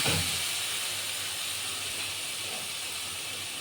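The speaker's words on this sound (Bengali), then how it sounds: "দেওয়ার পরে ভালো করে নাড়াচাড়া করবো আর মশলাটাকে ভেজে নেব।" Spices with Kashmiri chili and turmeric sizzle while frying in a pan, a steady, close, hissing crackle that continues throughout without talk.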